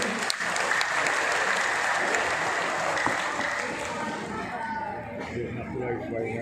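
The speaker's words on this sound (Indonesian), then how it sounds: "Tepuk tangan untuk beliau." Audience at a formal ceremony applauding the city's mayor, a full, steady roar of clapping mixed with crowd chatter, tapering off in the last seconds.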